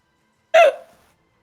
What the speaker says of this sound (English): A hiccup. I have very aggressive hiccups.